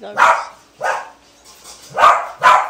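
Dogs bark four times at close range, sharp loud yaps spaced irregularly with short silences between them.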